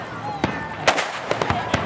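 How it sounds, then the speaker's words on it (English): Several sharp firecracker bangs go off irregularly in the evening in Darwin during a fireworks display, some close and loud, against a noisy outdoor background with faint voices. "people letting their own firecrackers off all over the place."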